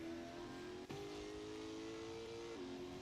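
A V8 stock car engine in a sim racing game holds a steady high drone, dips briefly as it shifts, then resumes and shifts once more, with no talk over it.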